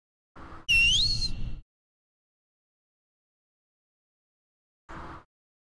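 A player whistles over proximity voice chat in a Backrooms video game, one short rising whistle partly overlapping a brief voice, then silence before a second short burst of voice.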